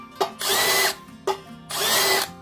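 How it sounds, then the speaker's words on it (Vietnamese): An Ozito power drill bores into an iron box in two loud, close bursts, each opening with a sharp catch and then a high, steady grinding whine. "Đây mình có cái hộp sắt nè, khoan luôn cho anh em xem."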